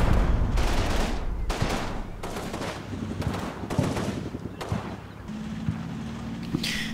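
Sustained enemy gunfire in the WWII strategy game Combat Mission: Battle for Normandy, with repeated bursts and volleys of rifle and machine-gun fire sounding at varying distances, loud and continuous, with no talk over it.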